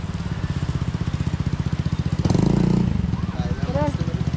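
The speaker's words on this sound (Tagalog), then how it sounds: "narinig ko ng motor" A motorcycle arriving, its engine thumping in a fast steady pulse that swells louder mid-way as it passes close, then eases back, with people talking over it.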